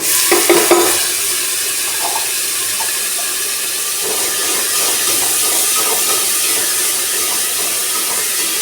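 Ground onion masala for Punjabi kadhi roasting in a pan: a loud, continuous hiss with scraping stirs near the start, steady and close without talk.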